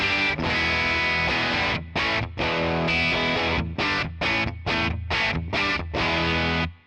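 Electric guitar run through a bright-channel capture of a Fender Twin amp, heavily distorted and loud, played as sustained chords cut into short rhythmic bursts with brief gaps between them.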